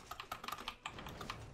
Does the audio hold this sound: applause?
no